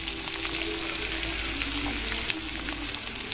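Chopped onion fries in hot oil with cumin and turmeric for a green pea usal, making a dense, continuous sizzle close up and steady throughout, with no voices.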